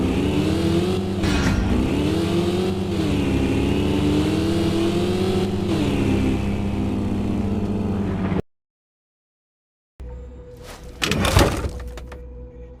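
A car engine revs loudly and continuously in a police driving video game, its pitch rising and falling. The sound cuts out abruptly, then returns with a short roaring burst.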